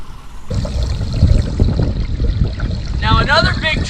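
Gray water gushes and pours out of an RV sewer drain hose after the solids tank is emptied, a continuous splashing stream with a person cheering over it near the end.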